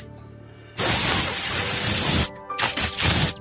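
Brand-new perfume sprays in loud, close, hissing bursts: one long sustained spray followed by a short pause and two quicker puffs.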